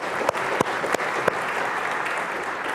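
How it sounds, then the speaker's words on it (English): An audience claps together at a science lecture, a dense, steady wash of hand claps with a few sharper, louder claps standing out near the start, filling a large hall without any voices. "Let's just all clap."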